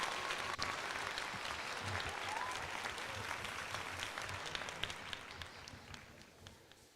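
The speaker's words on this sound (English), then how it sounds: "What a nice catch, and he gets a round of applause." Baseball crowd at a Phillies versus Diamondbacks game applauds steadily after a fine catch in the top of the ninth, a broad wash of clapping that fades slightly toward the end.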